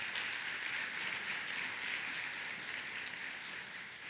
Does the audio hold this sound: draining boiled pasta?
no